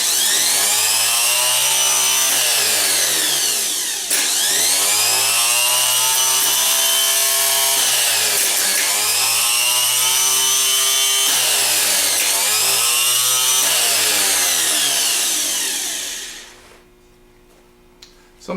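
A rebuilt 10MT starter motor spins freely on the bench with a loud, steady high-pitched whine that repeatedly winds up and dips in pitch, then spins down and stops near the end.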